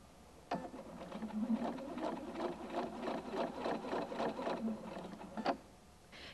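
A Husqvarna Viking Designer II sewing machine stitches fabric in a steady, rapid mechanical whir with a soft rhythmic patter, starting and stopping sharply, heard close and fairly quiet.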